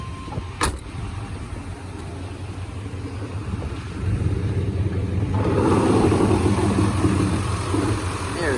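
A 1995 Chevy K1500 Silverado with a 355 TBI V8 runs at idle, its low rumble growing louder and fuller partway through as if heard closer with the hood open.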